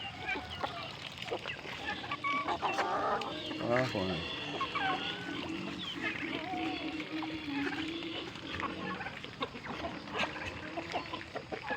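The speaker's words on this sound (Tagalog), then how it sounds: "Manok." Chickens on a small backyard flock cluck and squawk continuously at moderate distance, mixed with people talking nearby and general outdoor background noise.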